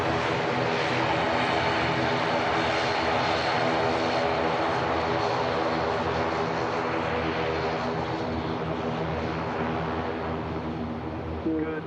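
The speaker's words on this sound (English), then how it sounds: "Bravo 1 departure for the ATR." ATR turboprop airliner departing from a runway intersection at Manchester Airport, a steady propeller drone with a strong tonal hum, moderately loud and constant throughout.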